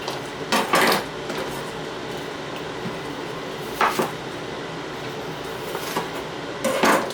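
A knife chops through a rack of pork ribs, hitting the cutting surface in a few loud, hard knocks spread over steady kitchen background noise.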